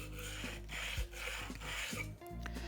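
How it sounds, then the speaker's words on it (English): A chisel's flat back slides on a sharpening stone in smooth strokes, a close, dry rasping rub repeated in about three passes with short pauses between. "flip the chisel over and lay the flat side as flat as possible on the sharpening stone. Use the same smooth movement as before."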